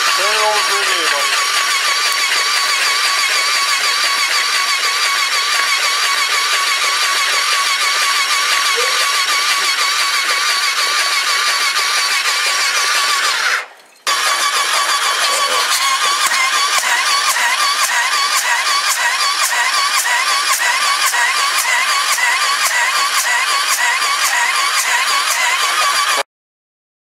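Can-Am 1000 ATV being cranked over after being swamped with water, spark plugs out, giving a loud, continuous mechanical churning that cuts out briefly midway, then resumes steadily until stopping abruptly.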